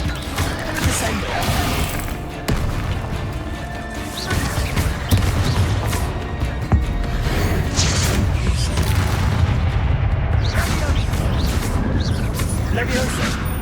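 Repeated slamming impacts and booming crashes from Descendo spells throwing enemies to the ground in Hogwarts Legacy, dense combat clatter with voices mixed in throughout.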